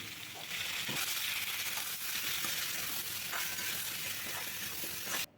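Steady, close sizzling of vegetables and jackfruit seeds frying in a pan over medium-high heat, with a few soft scraping stirs, ending abruptly.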